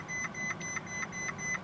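A Ferrari dashboard chimes with a steady run of repeated, evenly spaced electronic beeps, about four per second, after the ignition key is turned on. The beeps sit over a low background hum.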